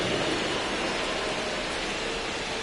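Steady, even rain hiss pours down on a baseball field in MLB The Show 25, a dense, continuous wash of noise with no voices over it.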